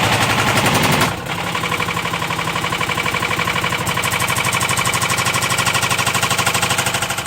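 A washing machine motor tumbles inside a Beko washing machine drum during deliberate destruction, a loud rapid mechanical rattling and hammering that runs continuously after a brief drop in level near the start.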